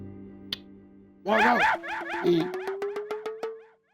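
A man in a comedy scene imitates a dog with his voice, producing a burst of mock barks followed by a run of rhythmic, evenly spaced woofs that trail off.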